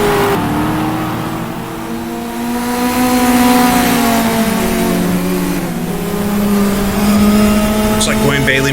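Engine of a 1966 British Saloon Car Championship race car at Brands Hatch in the GTR2 racing game, downshifting to second gear: a loud, steady engine drone whose pitch drops and rises again, with no speech over it.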